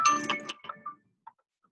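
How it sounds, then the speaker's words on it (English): Small electronic key finder tracker clipped to a set of keys going off, a few bright beeping chimes that fade into short, sparse blips, heard close up with no talking. "every time I bend over or put my hand in my pocket, the stupid key thing goes off"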